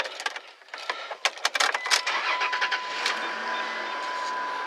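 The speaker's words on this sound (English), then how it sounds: "Now I'm going to start the vehicle up." A car engine cranks with several sharp bursts, then catches and settles into a steady idle, close and moderately loud, with no talking.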